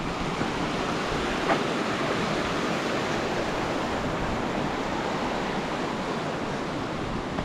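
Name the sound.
creek flowing on Sawtooth Idaho trail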